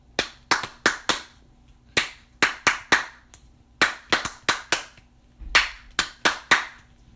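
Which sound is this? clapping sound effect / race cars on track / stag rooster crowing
clapping sound effect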